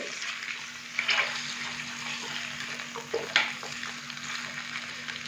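Pieces of desi chicken fry in oil over a medium-low flame, keeping up a moderate, even sizzle with two short bursts of stirring or spattering. A low steady hum runs beneath it, and no one talks.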